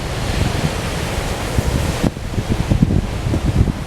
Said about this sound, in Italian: Guardate che tempesta.